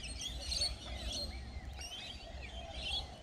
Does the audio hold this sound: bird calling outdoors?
yes